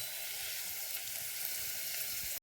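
Onions sautéing in a pan over a wood-fired stove for khichdi give a steady, close, even sizzle that runs unbroken and then cuts off abruptly at the end.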